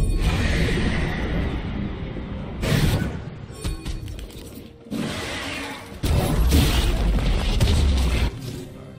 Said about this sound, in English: Has destroyed a turret.